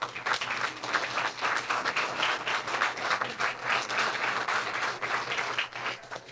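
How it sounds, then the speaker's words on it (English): An audience gives a round of applause for volunteers at an evening community event, steady, dense clapping from a sizable crowd that lasts several seconds without a break. "A round of applause for our volunteers tonight"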